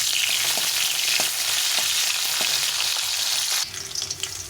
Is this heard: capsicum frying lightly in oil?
yes